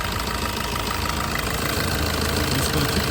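A 2017 Maruti Ciaz S diesel sedan idles with its engine running, a steady close mechanical rumble with a faint knocking clatter, constant and unbroken, no voices.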